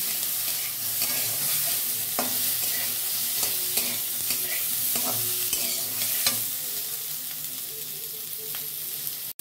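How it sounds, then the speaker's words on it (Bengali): Fried potato and freshly added tomato stirred in a hot pan while making badha kofi, with a constant loud sizzle and intermittent spatula scrapes, close up with no talking. "সেই টমেটোটা এর মধ্যে অ্যাড করে দিলাম, দিয়ে ভালো করে নাড়াচাড়া করে নেব।"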